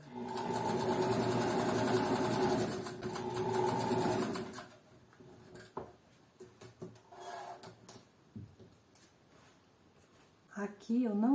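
Domestic sewing machine stitching fabric, a loud continuous whir for about four seconds, then quiet handling noises and someone speaking.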